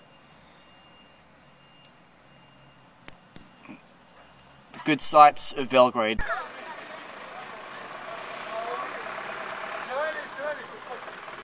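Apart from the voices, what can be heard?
truck reversing with beeps in Kalemegdan Park, Belgrade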